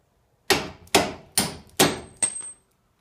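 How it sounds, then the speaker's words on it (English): A hammer strikes splined bolts out of a car strut during a lift strut install, with five sharp, loud metallic smacks in a steady rhythm, each ringing briefly before the next. "I give them a real good hard smack, just like that, and they just fly right out"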